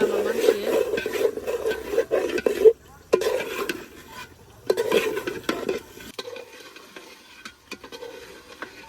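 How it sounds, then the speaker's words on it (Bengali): Broiler chicken pieces stir-fried with packet biryani spices in a pot, a steady frying hiss with repeated scraping and clattering stirs, easing to quieter sizzling near the end. "মাংস কষাইলে দেখেন কত সুন্দর একটা কালার আহে আর এই যে উপরে কত সুন্দর তেলে উঠে গেছে"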